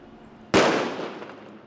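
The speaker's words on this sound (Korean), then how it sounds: "손바닥에 올려놓을 만큼 작은 폭죽. 그런데 불을 붙이자 엄청난 굉음을 내며 터집니다." A palm-sized firecracker goes off in a single loud, sharp bang, followed by a long fading rumble.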